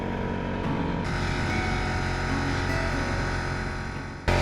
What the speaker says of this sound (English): The compressor's definitely putting a hurting on it.